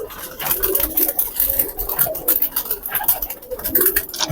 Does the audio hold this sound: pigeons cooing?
yes